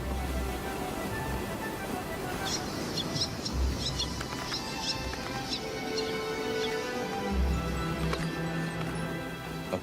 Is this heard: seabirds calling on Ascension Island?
yes